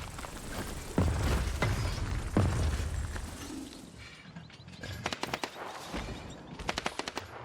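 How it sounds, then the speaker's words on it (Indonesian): Gunfire in the Dying Light the Beast video game, sharp shots and short rapid bursts ringing out at moderate distance, with quieter gaps between volleys and a thinner crackle toward the end. "Suara tembak."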